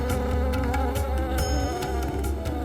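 Bees buzzing around a hive, a close, steady droning hum with shifting pitch as insects move about, continuous and fairly loud with no voices.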